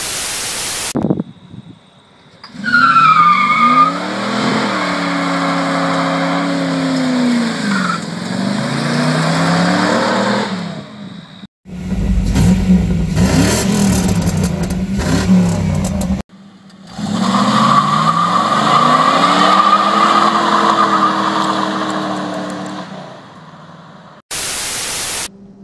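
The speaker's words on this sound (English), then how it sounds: "I've been known to occasionally operate a 1990 Pontiac Trans Am" 1990 Pontiac Trans Am GTA with a 5.7 liter L98 V8, engine revving loud and close, rising and falling in pitch through repeated throttle sweeps, interrupted midway by a harsh noisy stretch.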